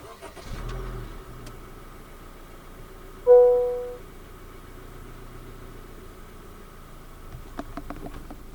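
A 2023 Honda City 1.5 S engine cranks and catches via push-button start with a brief rising whine, then settles into a low steady idle over faint background rumble.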